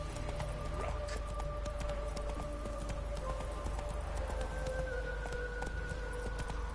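Roach, a horse in The Witcher 3 video game, gallops with a steady, rhythmic clip-clop of hooves that continues throughout, set against a constant ambient game backdrop with sustained tones.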